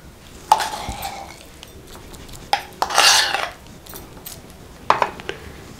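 Spoon scraping and clinking against a bowl while boiled dal is mashed with salt, oil and chopped onion, a few sharp metallic taps and one longer rasping scrape, close up.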